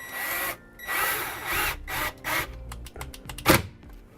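A power drill drives kit screws into a new trailer roof vent on a 1994 Firan Coving, in several short, loud bursts of whirring with brief pauses between them and a sharp clack near the end.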